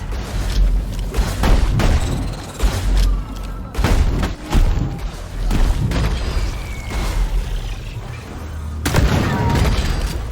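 In the video game Deep Rock Galactic, a slow grenade detonates amid a chaotic fight, bringing loud, repeated booms and thuds over dense gunfire and combat noise, with brief shouted voice lines.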